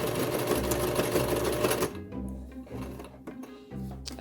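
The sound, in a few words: sewing machine back stitching a bat wrap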